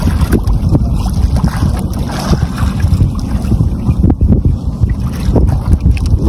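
Strong wind roars across the microphone on a small fishing boat at sea in rough water with big waves, a steady loud gusting rush over low boat and water noise throughout.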